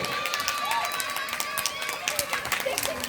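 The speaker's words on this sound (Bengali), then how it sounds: "জোরদার হাততালি" Loud applause from an audience at a dance academy award ceremony in Berhampore's Rabindra Sadan hall, steady dense clapping with crowd murmur and voices throughout.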